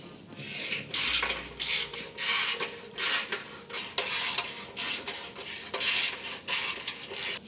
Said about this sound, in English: We're going to start with a long-handled wrench ratchet with a 13mm socket.